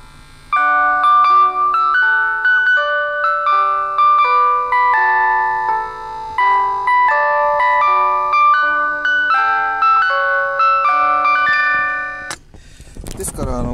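A bright music box plucks a steady tinkling melody of the Japanese railway song Tetsudō Shōka, with sustained metallic notes, ending abruptly with a clunk and rustling handling noise.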